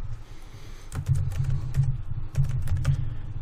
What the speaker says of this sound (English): type what you want, hit enter